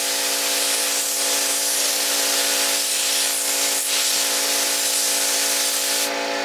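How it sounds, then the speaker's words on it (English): Paint sprays in thin, airbrush-like coats during a paint compatibility test, a loud continuous hiss holding steady throughout with a hum in the background. "Paint it again. Again, this is like an airbrush. A lot of thin coats until it looks shiny."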